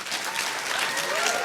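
Sustained audience applause at a stand-up comedy show, steady and dense with scattered claps throughout, no speech over it.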